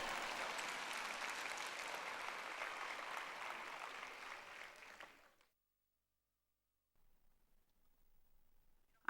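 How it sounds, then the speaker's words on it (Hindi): Audience applause, a steady wash of clapping from a crowd that holds for about five seconds, slowly thins, then cuts to silence. "आप मन ताली बजाओ या ना बजाओ,"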